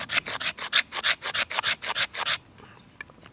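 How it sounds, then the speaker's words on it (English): A knife shaves fatwood into a pile of shavings outdoors, with about a dozen quick rhythmic scraping strokes close up, then a brief quiet pause with a faint tap. "if I just make a pile of shavings just to increase the surface area"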